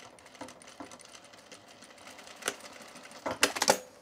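A sewing machine runs stitches through a tool belt with contrast thread, a quiet mechanical patter that swells into a louder, denser burst near the end.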